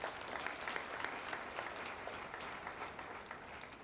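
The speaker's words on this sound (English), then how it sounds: "A round of applause for him." Steady applause from an audience at a professional induction ceremony fills the hall, a dense, even patter of many hands clapping without pause, moderately distant and fairly quiet.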